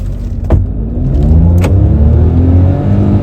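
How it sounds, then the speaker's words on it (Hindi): A Hyundai Venue N Line accelerates hard from a standstill toward 100 km/h, its engine rising through the revs in a loud close-up whine with a couple of sharp clicks early on. "we'll check the 0 to 100 of this car and tell you more about the driving experience of this Hyundai Venue N-Line"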